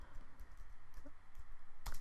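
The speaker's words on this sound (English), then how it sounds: "I'm going to type in this." Keys on a computer keyboard are typed at a steady quick rhythm, close and fairly quiet, with one sharper clack near the end.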